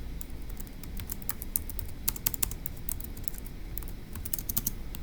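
Quick, light clacks on a computer keyboard tap out an uneven patter of keystrokes close by, with small bursts and pauses and no one speaking.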